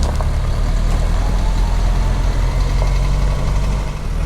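A farm truck's engine idles, a loud, steady low rumble with a constant chug, close by and uninterrupted.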